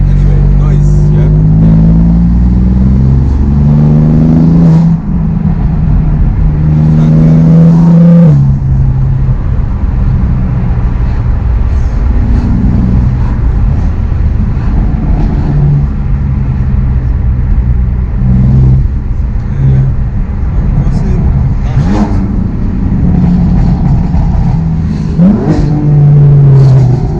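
Stage 3 turbo BMW M4 engine revving and accelerating on a drive, a loud continuous rumble with rising and falling engine pitch throughout, with voices heard over it inside the car.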